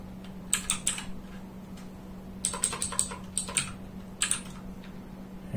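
Someone types on a computer keyboard in three short bursts of quick clicking keystrokes, close and clear over a steady low electrical hum, with no speech.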